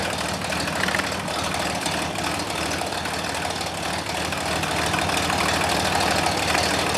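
A 1932 Chevrolet pickup engine running at idle, a dense, steady, rumbling drone that stays close and even throughout, with no voices.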